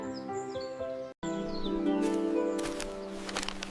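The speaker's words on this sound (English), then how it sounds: "I can hear the birds singing" Birds chirp and sing in a forest over a steady musical backdrop. The calls are light and scattered, and a brief cut breaks the sound about a third of the way through.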